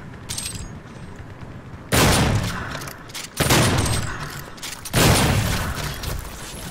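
Shotguns fire in an online multiplayer match of the Doom video game, three loud booming blasts about a second and a half apart, each trailing off between shots.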